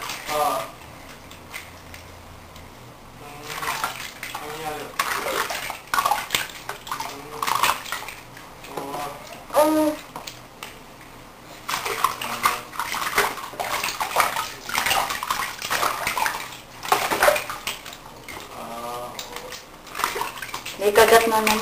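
A baby is bathed in a tub, with water sloshing and splashing on and off throughout while adults talk nearby and small clinks of dishes or utensils sound in the background.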